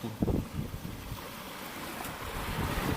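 Sea waves wash and rumble along a shoreline during crab catching with bamboo, a steady surf roar mixed with heavy wind buffeting the microphone.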